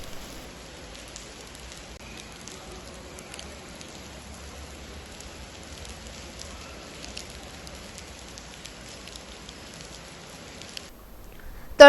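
Steady heavy monsoon-style downpour in Kankavli taluka, Konkan, a dense hiss of drops pattering on surfaces, with no voices.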